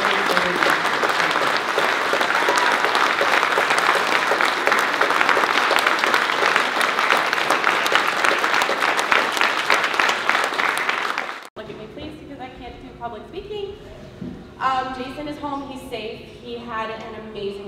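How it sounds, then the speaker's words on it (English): Convention crowd applauding itself at Penguicon's 2013 closing ceremonies, loud and sustained clapping for about eleven seconds that cuts off abruptly, followed by a person talking. "give all of yourselves a round of applause for making that happen"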